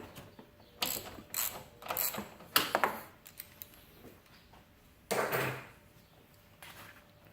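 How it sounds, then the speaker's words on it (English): A ratchet wrench fitted with a wobble extension loosens a nut on a liquid tap fitting. It gives several quick bursts of clicking, close by and loud, separated by short pauses, with no voices. "We'll just remove this nut"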